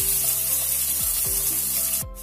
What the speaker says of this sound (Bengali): মিনিট 2-এর মতন ডাঁটাগুলো একটু ভাজা ভাজা করে নেব।